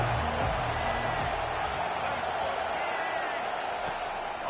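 A football stadium crowd roars in a broad, continuous wash of noise, loud and sustained, with commentators talking over it.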